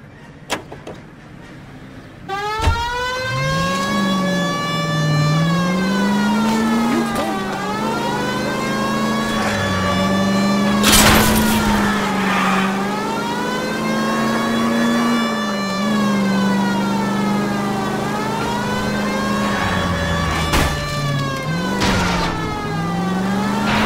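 Car driving in the video game L.A. Noire: a loud engine drone that rises and falls as it revs, with a siren-like wail and occasional bumps and knocks over it.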